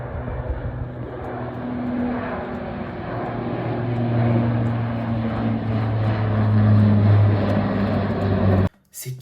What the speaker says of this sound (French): Tu vois les avions qui décollent.